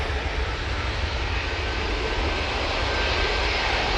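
A TUI airliner at Manchester Airport gives off a continuous broadband jet engine roar, heard from a distance with a steady, slowly swelling rush.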